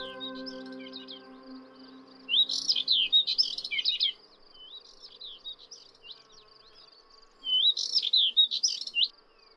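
Bright, rapid warbling song of subalpine warblers and Thekla larks comes in two lively bursts against a quiet background, with faint insect buzzing in between.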